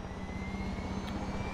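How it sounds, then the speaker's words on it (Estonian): An enemy helicopter hovers nearby in Far Cry 6, giving a steady droning engine hum with a faint rhythmic rotor pulse throughout a brief moment. "There's an enemy chopper creeping the skies nearby."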